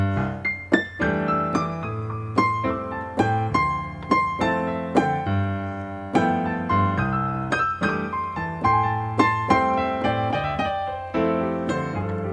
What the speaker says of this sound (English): Here's the sound of triplets.